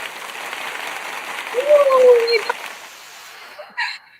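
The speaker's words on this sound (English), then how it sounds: "Virtual applause for you, my love." A virtual applause sound effect plays during a livestreamed conversation, a thin, canned-sounding wash of clapping lasting a few seconds that fades out, followed by a short brighter burst near the end.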